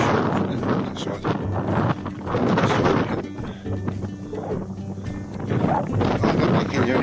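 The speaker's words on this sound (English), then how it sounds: "You don't want that wind, it's hot." Hot wind buffets and roars across open marshland on a blustery day, gusting unevenly and rumbling against the microphone throughout.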